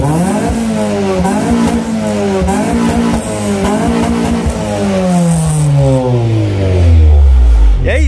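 A Honda B18B car engine with a new exhaust revs repeatedly up and down, loud and close, then drops to a deep rumbling idle near the end.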